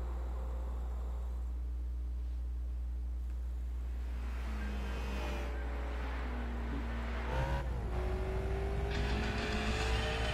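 Race car engine in Gran Turismo 5 on the Special Stage Route 7 track, a steady loud drone with rising revs and tonal shifts as it accelerates, growing rougher and louder near the end, no talking.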